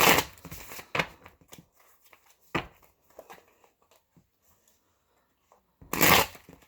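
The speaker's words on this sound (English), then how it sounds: "Just shuffle my tarot." Bursts of tarot cards being shuffled close up, a riffle at the start, a few brief flicks and taps, a quiet pause, then another riffle.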